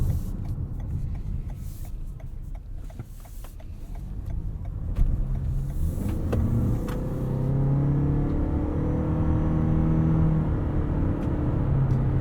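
A 2021 Toyota Venza Limited cruising at highway speed, heard from inside the cabin as a steady low road rumble and hum with soft engine pull that builds slightly, with no talking.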